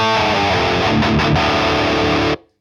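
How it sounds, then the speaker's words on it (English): A distorted electric guitar plays through a Hotone Ampero Mini with the impulse response switched off, giving a loud, buzzy, sustained chord that rings for about two seconds and then cuts off abruptly into silence. "Now is with impulse response disengaged, and it sounds like this."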